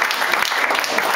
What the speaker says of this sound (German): einen großen Applaus bitte für meine neue Strudelmeisterbäckerin